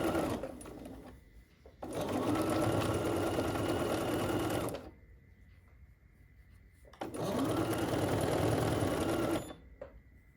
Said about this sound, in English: I bet I'm gonna have to learn the bobbin.